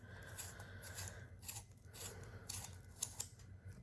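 Soft repeated scraping and rasping of a Charlotte Tilbury Pillow Talk lip liner being twisted in a Sephora sharpener, quiet and close with brief rhythmic strokes.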